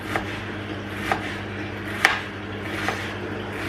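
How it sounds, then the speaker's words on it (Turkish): A knife chops an onion on a cutting board, four spaced, fairly soft taps over a low steady background hum. "Şöyle bir tane soğan doğrayacağım şimdi"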